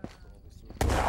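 Grenade explosions in the video game Ghosts of Tabor: a sharp thud opens, a softer pop follows, then a loud booming blast lands near the end, fairly close and heavy.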